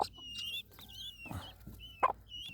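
Young ducklings calling, with thin, high peeping cheeps and a few lower clucking notes mixed in, close by over a low background hum.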